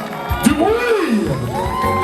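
An audience at a Côte d'Ivoire independence celebration in Morocco cheers and whoops, with a rising shout, crowd noise and scattered clapping, loud and close.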